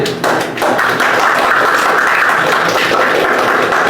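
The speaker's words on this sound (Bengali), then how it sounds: "আরে হাততালি তানিষ্কের জন্য" Students in a Class 9 physics class clapping for a classmate, a dense loud burst of applause from many hands close by, sustained evenly for several seconds with no talking.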